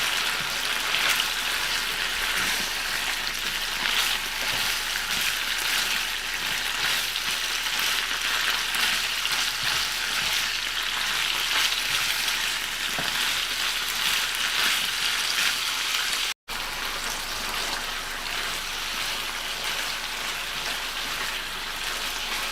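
Beef bulgogi with sliced carrot added sizzles and fries steadily in a pan, a continuous crackling hiss that stays loud and even, with a brief cut near the end.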